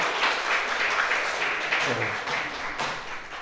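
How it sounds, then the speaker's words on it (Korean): A Korean church congregation claps in thanks, a full, continuous round of applause at steady volume, with a brief low voice murmuring beneath it midway. "우리 박수로 감사합니다"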